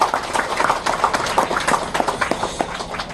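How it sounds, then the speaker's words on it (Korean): Mourners at a memorial ceremony for massacre victims at Golryeonggol in Sannae, Daejeon, applaud with a burst of irregular, fairly close clapping from a modest crowd, lasting a few seconds. "큰 박수 부탁드리겠습니다."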